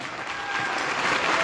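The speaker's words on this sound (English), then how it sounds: "Round of applause one more time." Audience applause fills a masterclass for content creators in Lesotho, a steady dense clapping that swells slightly and holds at an even level throughout.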